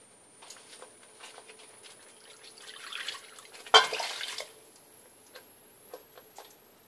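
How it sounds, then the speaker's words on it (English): Water poured into a cooking pot of tomato puree while making butter chicken, a brief splashing pour rising mid-clip over faint kitchen ticks and drips, close and moderately quiet. "I'm going to add some more water."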